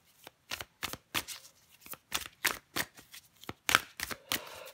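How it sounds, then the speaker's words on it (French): Tarot cards are shuffled by hand in a quiet room, a close run of about a dozen crisp riffling bursts in quick uneven rhythm, with no talk over them. "je prends encore une carte pour vous"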